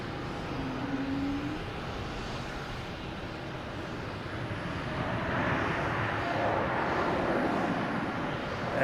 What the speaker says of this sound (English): The JetBlue here from JFK,